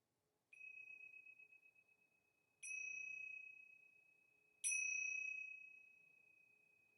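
A meditation bell rings three times, each clear tone struck about two seconds apart and left to ring out slowly in otherwise quiet surroundings.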